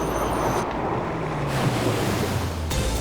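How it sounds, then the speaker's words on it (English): Arctic ocean waves crash and surge against icebergs in a steady, loud roar of surf, with wind buffeting the microphone throughout. "From above, the waves just shooting high up into the air up against the bergs."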